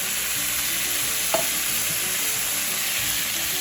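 Diced tomatoes being stirred into cooked leftovers in a frying pan, giving a steady, close sizzle and fry with a faint scrape of the utensil partway through.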